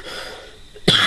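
A single short cough, close and sharp, after a moment of quiet background.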